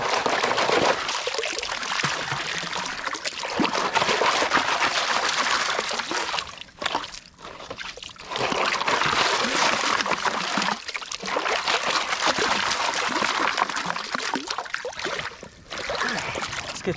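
Water pours and splashes steadily from a gold pan being worked in a leafy Michigan creek, a continuous bright rush that briefly eases and resumes several times.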